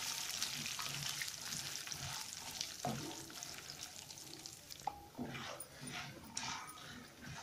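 Lentils sizzling in oil in a pan for tamarind rice (pulihora), a crackling fry with stirring scrapes and clinks, and a dog whimpering faintly nearby.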